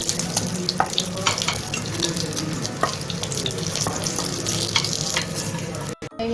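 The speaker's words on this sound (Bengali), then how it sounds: "এখন ভেজে নেবো বাকি মাছগুলো আমি এভাবে ভেজে নেবো লাল করে" Pieces of rohu fish frying in hot oil, a loud, continuous, crackling sizzle close by with faint utensil taps, no talking.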